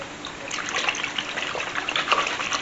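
Wet ingredients, oil and liquid, poured into a bannock bread mix, making a short, steady splashing trickle close by.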